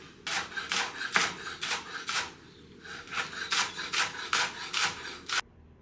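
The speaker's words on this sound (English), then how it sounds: "Slice up these green onions." A knife slicing green onions on a cutting board makes a steady run of about a dozen crisp, rasping strokes, with a brief pause midway before the chopping resumes.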